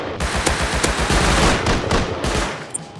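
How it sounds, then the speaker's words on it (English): Rapid, sustained automatic fire from an auto turret in the Rust video game, loud and close, a dense continuous burst of shots running almost the whole time before cutting off near the end. "this turret's gonna actually raid this"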